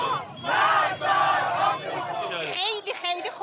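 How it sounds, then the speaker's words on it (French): A crowd in central Tehran chants and cheers at a street celebration of missile strikes, with flags waving. Loud massed voices rise in repeated waves, and a shouted chant stands out near the end. "La foule célèbre ces frappes au cri de mort à Israël."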